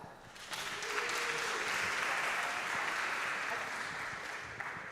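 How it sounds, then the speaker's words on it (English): An audience claps together in sustained, even applause that swells and then gradually tapers off. "Let's give him a round of applause"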